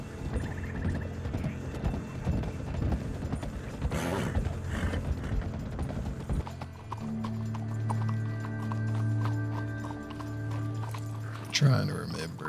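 Horse hooves clip-clop steadily in a Red Dead Redemption 2 western roleplay, drawing nearer over ambient game sounds, with a brief whinny and a steady tonal hum later in the clip.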